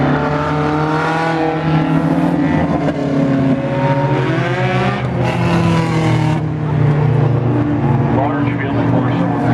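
A field of 4-cylinder stock cars racing in a heat at Fulton Speedway, loud layered engine drone with revving and pitch sweeps as cars pass close, continuous throughout, with a voice on a loudspeaker speaking over it.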